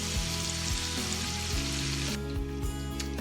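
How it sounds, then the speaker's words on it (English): Onions sautéing in a pan alongside bacon, a dense steady sizzle close up with a few low thumps throughout. "we got these onions, they're going to saute up"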